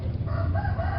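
A rooster crowing at dawn, one clear cock-a-doodle-doo call carrying over a low background hum, fairly close and moderately loud.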